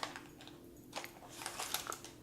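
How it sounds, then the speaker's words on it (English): Parchment paper crinkles and crunches softly in a kitchen while vegan almond butter fudge squares are wrapped, in quiet irregular bursts close to the microphone. "I keep crunching this parchment paper and then talking at the same time"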